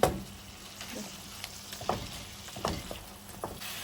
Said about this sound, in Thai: ก็รอผัดให้เข้าเครื่องอีกครั้งนึงจ้ะ